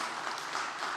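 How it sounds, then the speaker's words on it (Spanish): A church congregation applauds during a sermon, a brief burst of dense, steady clapping heard at a moderate distance with no voices over it. "Dele un aplauso al Señor"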